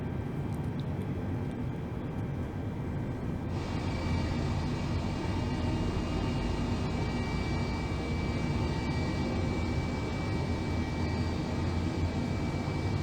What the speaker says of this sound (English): Now let's start the engines.